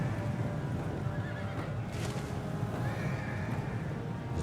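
Cavalry horses in a Total War: Attila battle neigh and whinny over a steady clatter of hooves and a dense, continuous din of fighting, with no voices.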